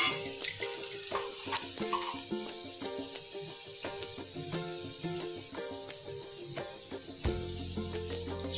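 Sabudana pulao frying and being stirred in a pan, a faint continuous sizzle broken by frequent scraping and clinking strokes of a spoon, with no talking.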